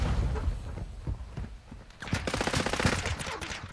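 Rapid automatic gunfire in Call of Duty: Modern Warfare II, a dense burst of shots in quick succession, louder in the second half, with little talk over it.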